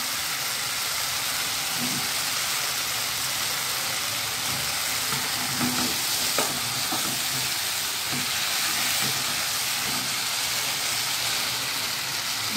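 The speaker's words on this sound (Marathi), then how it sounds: "त्याच्यामध्ये आपली बटाटी टाकून घ्यायची" Potatoes stir-fried in a pan over a high flame for a potato and green pea dish, a loud, steady hiss and sizzle that runs throughout, with faint stirring scrapes underneath and no talk.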